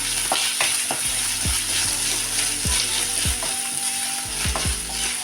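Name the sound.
chopped tomato sautéing in a pan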